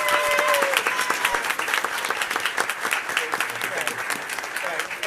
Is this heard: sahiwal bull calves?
no